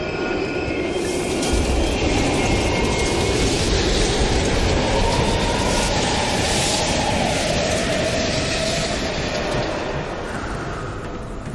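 A train rumbles past steadily for the whole stretch in Call of Duty: Black Ops Cold War, with rolling wheel noise and faint metallic squeals, loud and continuous with no talking.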